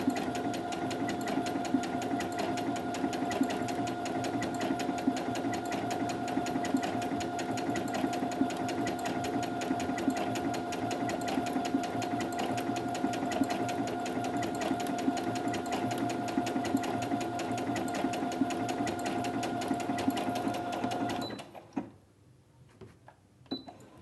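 A Brother A16 sewing machine runs fast and steady while stitching an overcast seam, a dense even mechanical chatter that continues close up before stopping abruptly, followed by a few faint clicks.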